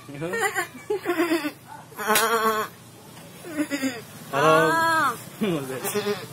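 A goat bleats in a series of wavering, nasal calls of varying length, with one long quavering cry near the end, close and fairly loud in a quiet setting.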